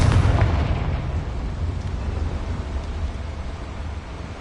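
A Confringo explosive spell goes off in the video game Hogwarts Legacy as a heavy, booming blast that tails off into a sustained low rumble, loud and alone.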